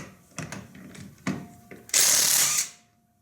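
A DeWalt 20V 1/2-inch cordless impact gun, model DCF889HM2, removing nuts: a few short clicks and clunks, then one loud, close hammering burst that lasts under a second before stopping.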